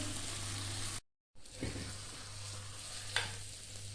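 Okra (bhindi) frying in a pan for Hyderabadi bhindi gosht; a steady sizzle runs throughout, cut by a brief silent gap, then resumes with a faint clink or stir and no voices.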